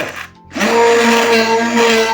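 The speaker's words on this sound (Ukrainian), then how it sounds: "блендер-міксер нагрівся." Kitchen blender-mixer churning sour cream into homemade butter, a loud steady whining motor hum that starts after a short pause and runs continuously, close up with no talk.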